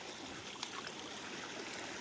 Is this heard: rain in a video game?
no